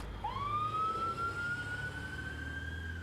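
Ambulance siren, a single rising wail that climbs and holds a steady high tone, heard faint and distant over low background rumble.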